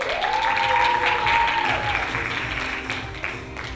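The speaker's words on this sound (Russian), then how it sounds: "Бурные аплодисменты!" A hall audience breaks into sustained, enthusiastic applause at a university arts festival, the clapping dense and close, slowly tapering toward the end, with a faint tone and murmur beneath.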